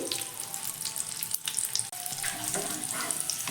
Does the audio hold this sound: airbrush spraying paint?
no